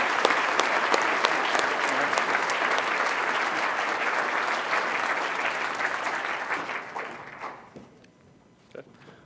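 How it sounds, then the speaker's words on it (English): Sustained applause from an audience at a grant awards breakfast, a dense steady wash of many hands clapping that holds for several seconds, then thins and fades out to near quiet. "Join me in giving an applause for this group of wonderful organizations"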